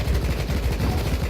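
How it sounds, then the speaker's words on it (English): Rapid, dense gunfire rattles in the side-scrolling game Rocketbirds: Hardboiled Chicken, a loud continuous burst of low, punchy shots with no talk over it. "And they make a lovely gunshot noise."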